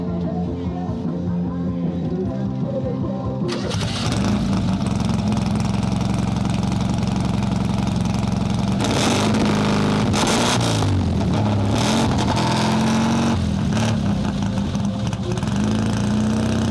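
A 1954 Ford Ranch Wagon engine cranks and catches, then settles into a loud, close idle with several revs rising and falling, heard alone without talk.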